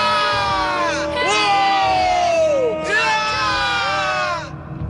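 Animated cartoon characters shout loudly together in excited, high-pitched voices, a sustained burst of overlapping yelling that stays close and loud for several seconds before trailing off.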